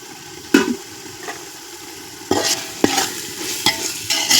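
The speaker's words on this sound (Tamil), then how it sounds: "இப்போ கெட்டி தயிர் சேர்த்துடலாம்." Thick curd goes into mutton biryani masala cooking over a wood fire, giving a few sharp bursts of sizzle and stirring scrapes against a low steady frying hiss.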